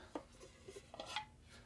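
A folding omelette pan that closes in half is handled, giving a few light metallic clinks and taps scattered over a quiet moment, close and soft with no talking.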